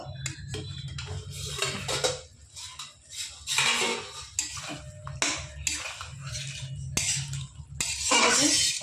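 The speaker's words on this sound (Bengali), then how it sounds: "এবার ঢাকনিটা তুলে দেখে নেব।" A lid is lifted off a pot of simmering broad bean (shim) chorchori, a Bengali vegetable dish, with irregular metallic clanks and scrapes of cookware and utensils, some sharp and close, over a low steady hum.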